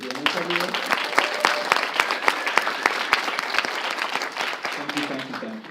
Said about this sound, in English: Maybe a round of applause for Jen and Michael for doing this every yea